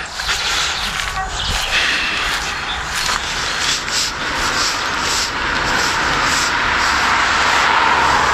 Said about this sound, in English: the stupid train's making their stupid train noises